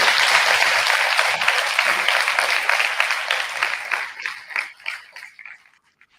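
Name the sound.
audience applause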